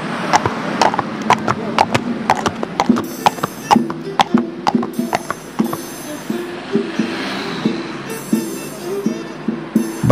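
Horse hooves clip-clop in a regular, close rhythm that continues the whole way through, over a tonal background layer.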